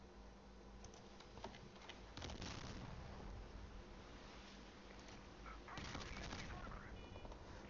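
Naval shell fire from the Japanese battleship IJN Ise in the game Steel Ocean comes as dense, rumbling bursts of rapid blasts. The fire is faint and distant in the mix and swells in two heavier salvos.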